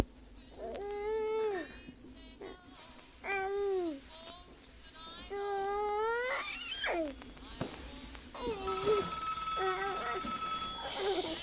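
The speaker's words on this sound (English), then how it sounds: "Darling, I need to answer the phone." A telephone bell rings in an audio drama scene set in a family home before the war, its steady high ringing tones coming toward the end after a series of wavering, voice-like calls.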